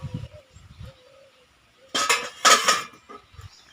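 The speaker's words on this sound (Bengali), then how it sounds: "এবার ঢাকাটা খুলে নিচ্ছি।" A cooking pot lid lifted off a pot of boiling dal during dal tadka preparation, giving two loud close metallic clatters and scrapes, with faint kitchen sounds before and after.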